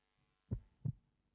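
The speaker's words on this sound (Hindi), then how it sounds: "दिल की धड़कनें भी बढ़ रही हैं।" A heartbeat sound effect plays during a Pakistani comedy talk show segment: two deep, thudding beats roughly a third of a second apart, with the start of a third, alone and fairly quiet with no talk over it.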